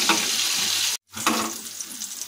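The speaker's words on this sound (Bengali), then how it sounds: "এইভাবে আমরা এই উল্টো দিক থেকেও 5 মিনিট এইভাবে ভেজে নেব।" Rohu fish pieces fry in hot oil, a close, crackling sizzle that cuts out briefly and returns as a spatula turns them over, with no voices.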